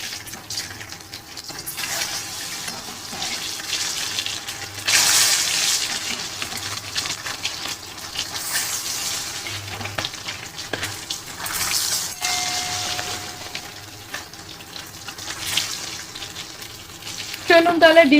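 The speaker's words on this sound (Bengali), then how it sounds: "চলুন তাহলে ডিমগুলোকে ভেজে ফেলি" Eggs fry in hot oil in a wok, giving a steady crackling sizzle with louder spattering bursts over the span, and faint background noise throughout.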